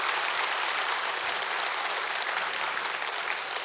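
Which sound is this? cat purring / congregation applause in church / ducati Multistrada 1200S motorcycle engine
congregation applause in church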